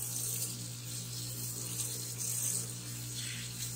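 Tap water streams steadily into a sink while dyed knife scales are rinsed, a continuous close, even rush with no talking over it.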